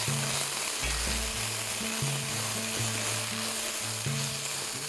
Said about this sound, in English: I'm going to add a tablespoon of ginger paste, a tablespoon of garlic paste. Just saute this till the raw smell goes off.